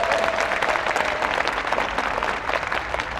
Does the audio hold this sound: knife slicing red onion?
no